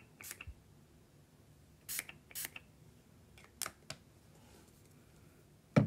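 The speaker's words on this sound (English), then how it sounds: "let me just spray it so it won't get rusty" Several short, quiet hissing bursts from a spray can, spaced irregularly with near silence between them, and one sharper burst at the end.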